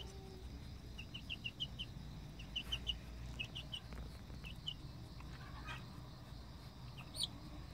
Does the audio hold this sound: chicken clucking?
yes